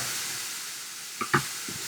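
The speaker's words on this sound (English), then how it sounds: "These are the vegetables that are just cooking nicely in the frying pan." Vegetables cook in a frying pan with a soft, steady sizzle, broken by a couple of brief stirring clatters near the end, close by with no talking.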